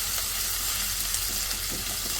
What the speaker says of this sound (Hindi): अब ये जो ऑयल है, इसी के अंदर मैं अदरक डालूँगी और लहसुन भी डाल दूँगी साथ में, और इसको हम अच्छा सा फ्राई करेंगे पहले